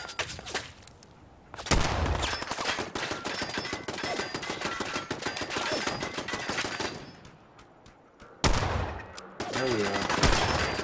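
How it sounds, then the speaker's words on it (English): Rapid bursts of gunfire in the video game Fallout 4, loud and dense with sharp repeated shots, broken by a short lull before firing resumes in heavy volleys. "See the guy shooting at me."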